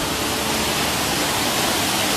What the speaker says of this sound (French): à la deuxième cascade. Ah oui, elle est belle